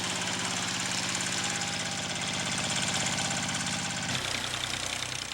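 A small two-wheel tractor engine runs close by with a steady, throbbing, slightly knocking idle, loud and continuous, its pitch dropping briefly near the end.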